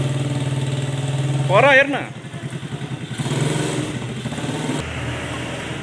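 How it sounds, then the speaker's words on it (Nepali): A small desert bike ridden by a young girl, its engine revving up in a brief rising whine, then puttering and idling nearby while someone talks over it. "यहाँ डेजर्ट बाइक कुदाउँछु भनेर कुदाउँदैछ"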